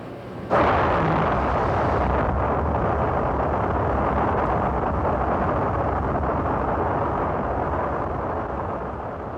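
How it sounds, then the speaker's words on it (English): A Saturn 1B rocket lifting off from a launch pad gives a steady, dense roar that starts abruptly and rumbles on continuously, fading slightly toward the end, with no voices. "It was launched from pad 37B on the smaller Saturn 1B rocket."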